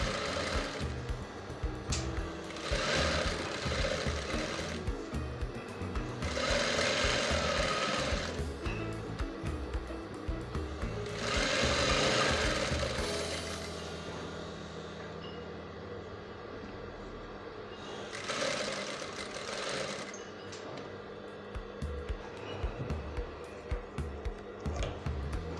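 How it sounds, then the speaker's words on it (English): A sewing machine stitches a skirt waistband in several steady whirring runs with short pauses between them, close up and fairly loud over a low background hum. "you're just sewing it by 1/2 inch"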